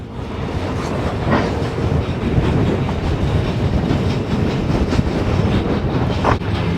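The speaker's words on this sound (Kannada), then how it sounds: "ಎಲ್ಲೂ ಸ್ಟಾಪ್ ಇರಲ್ಲ, ಟ್ರೈನ್ ಹೋಗ್ತಾನೆ ಇರುತ್ತೆ ಆಲ್ಮೋಸ್ಟ್." An iron ore freight train in Mauritania rolls steadily along the rails, with a continuous close rumble, faint rhythmic clacks and some wind noise, and no one speaking.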